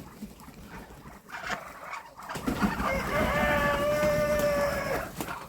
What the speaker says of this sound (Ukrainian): до дві качки вже б'ються молоді